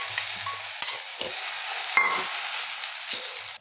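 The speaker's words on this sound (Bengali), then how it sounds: "দেখুন এই যে হালকা আঁচে আমি ভেজে নিয়েছি।" Food frying gently in a small amount of oil over low heat, a steady soft sizzle with occasional stirring scrapes, close and continuous with no talk.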